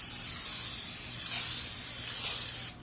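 An aerosol spray can sprays in one continuous close hiss lasting nearly three seconds, rising slightly twice before cutting off, in a classic car trunk enclosure build, with no talk over it.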